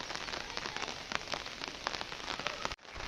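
Steady heavy rain after two days of nonstop downpour falls on surfaces in a dense, continuous hiss, close and even, then cuts out abruptly near the end.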